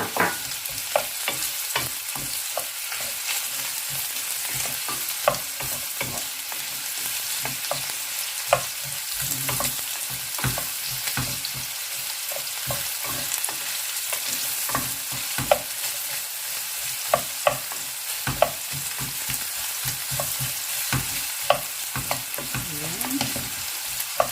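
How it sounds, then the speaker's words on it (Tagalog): Chopped onions sauté in hot oil in a pan for an adobong takway with pork, with a continuous loud sizzle broken by frequent sharp scraping and stirring clicks from a utensil, and no talking. "Okay, lagay na natin yung sibuyas. Gigisa na natin."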